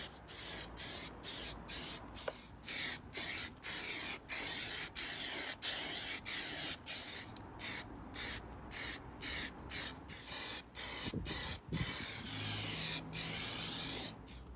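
Anti-gravel coating is sprayed in about a dozen short, loud hissing bursts onto the wing area of a Ford ST170 under restoration, with brief gaps between passes and no talk.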